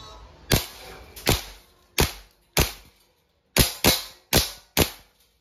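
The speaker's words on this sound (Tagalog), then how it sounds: "Semi-auto and firing." A WE airsoft M4 RIS gas blowback rifle fires semi-automatically, with eight sharp, loud cracks at uneven intervals, each followed by a quick decay into near silence.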